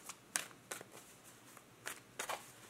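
Tarot cards are shuffled in a soft, neat rhythm of brief papery riffles and taps, quiet and close, with no talking.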